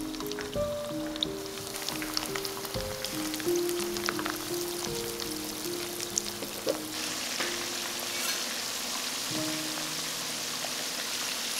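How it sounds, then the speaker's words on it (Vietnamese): Vietnamese spring rolls (chả giò), chopped small and coated in crispy frying batter, sizzle in hot oil. It is a quiet, steady crackle with scattered pops, heard under soft background music and no speech. "Khi dầu đạt độ nóng thì mình cho chả giò vào chiên nè."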